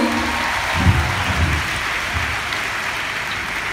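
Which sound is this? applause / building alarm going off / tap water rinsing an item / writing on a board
applause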